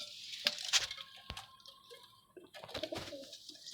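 Pigeons kept for sale coo softly nearby in short, scattered calls, with a few sharp clinks and light knocks in between, faint overall and without talk.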